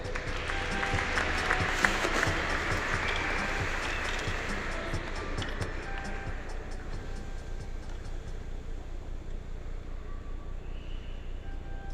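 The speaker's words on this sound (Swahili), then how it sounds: "Tuwapigie makofi tena" Sustained audience applause at a church deanery family day, a broad steady wash of many hands clapping at close range with crowd murmur, fairly even loudness throughout and no clear speech over it.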